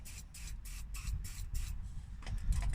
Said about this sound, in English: what we're going to have to do, more spray. give it more of that